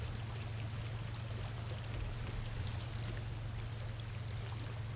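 Fuel pours into a truck during refueling in the game SnowRunner, a faint, steady rushing flow over a low engine hum, unbroken for a few seconds.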